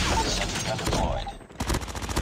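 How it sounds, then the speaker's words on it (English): A deployed sentry gun in Call of Duty Mobile fires steady rapid bursts in a continuous stream, cutting off briefly before resuming, with game voice callouts nearby. "Sentry gun deployed."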